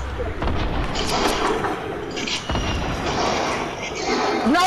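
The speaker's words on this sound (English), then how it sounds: "I got shot from somewhere else." Gunfire crackles in the Fortnite video game, with sharp booming shots and bursts sounding repeatedly and close over a continuous noisy backdrop while players talk.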